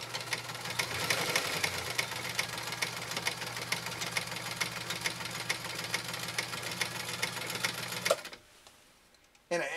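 A PFAFF Hobby 560Z sewing machine runs steadily at high speed, its needle clattering in a fast, even rhythm close up before it abruptly stops, leaving near silence and then a brief thump.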